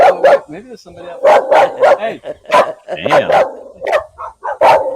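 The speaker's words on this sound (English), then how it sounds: "She's barking at a reflection." A dog barks at its own reflection: repeated sharp, close barks in uneven bursts, with someone talking between and over them.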